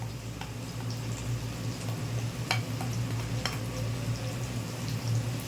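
Ground red chilli, turmeric, cumin and black pepper stirred as they fry in a pan for rui fish kalia, with a steady low sizzle and a few faint scattered scrapes and ticks, nearby and without talk.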